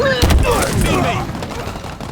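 Rapid bursts of gunfire crackle in a Halo Infinite match, a short dense volley up front that fades into a rumbling tail, with game voices over it.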